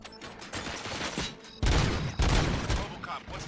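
Gunfire in RoboCop: Rogue City, loud bursts of game gunshots in a rapid fusillade, with a heavier volley starting midway and continuing over a dense background of noise.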